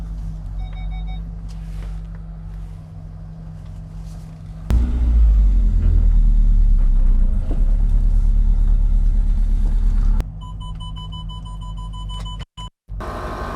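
A car engine rumbles loudly for several seconds over a quieter background hum, then cuts away abruptly as the vehicle moves off.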